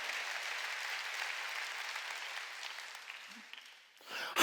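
Members of a church congregation at a Sunday service applaud together. The clapping is dense and steady, fades out after about three and a half seconds, and a brief burst of sound follows at the very end.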